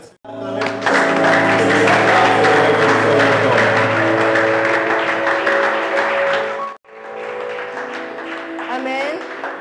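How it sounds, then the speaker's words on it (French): A church congregation claps loudly and continuously, with a hum and voices mixed in. The clapping stops briefly, then resumes at a lower level. "put your hands together."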